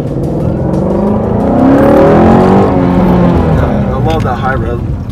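A 2018 Ford Mustang Shelby GT350 engine climbs toward a high-RPM scream, swelling loud in the middle before easing off, with a voice briefly heard near the end.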